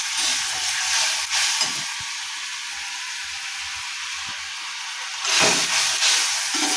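Masala spices sauté in a pan with a steady, close hiss of sizzling that briefly swells louder near the end, no talking.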